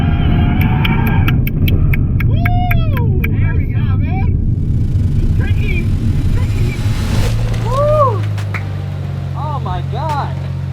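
A Nissan R34 Skyline drifts with its e-brake button taped down, a loud engine roaring and surging up and down in pitch with repeated sharp rises, tire noise and clicks mixed in, heard close throughout.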